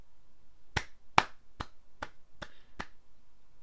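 Six sharp hand claps, evenly spaced at a slow, deliberate pace, with no voices around them.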